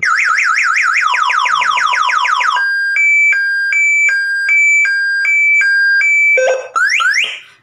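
A 2-in-1 MP3 alarm fitted to a Rusi motorcycle sounds loudly: a fast warbling electronic siren shifts into a string of evenly spaced two-tone beeps, then rises into another sweep, with no talking.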